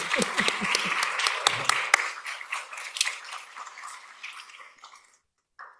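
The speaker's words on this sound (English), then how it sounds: "please join me in a round of applause as we welcome our guest, Reverend Wayne Lewis" An audience at psychiatry grand rounds honouring Martin Luther King Jr. applauds to welcome guest speaker Reverend Wayne Lewis. Loud, dense clapping thins out and fades over several seconds, and a brief voice follows after a short pause.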